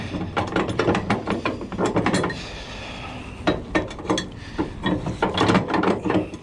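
Strap being fed through a truck's winch: a rapid, dense run of ratcheting clicks and rattles in bursts, with a brief smoother pause midway, close up and loud, with no talk.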